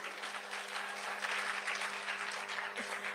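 A congregation at a church sermon claps: an even, moderately loud patter of applause over a faint steady hum, holding through the whole moment.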